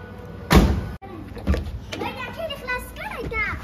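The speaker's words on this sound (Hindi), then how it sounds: "बंद कर दो दरवाजा" A car door shuts with a loud thump near the start, followed by children and adults chattering and talking close by.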